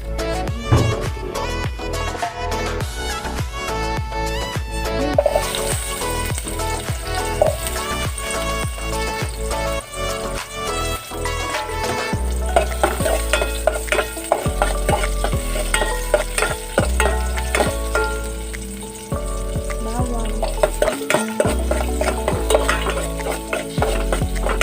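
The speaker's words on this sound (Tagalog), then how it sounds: "Nagigisa muna." Food sautéing in a pan for ginataang hito and tinola, with busy sizzling and frequent clinks and scrapes of a utensil stirring against the pan, close up, mixed with background music.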